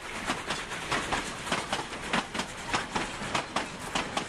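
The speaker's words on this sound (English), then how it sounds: "Oh, look at that, we got a train" A passenger train rolls past nearby with a rhythmic clickety-clack of wheels over rail joints, each repeated thump coming at a steady pace over a continuous rumbling roar.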